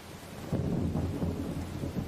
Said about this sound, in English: with thunder roaring above him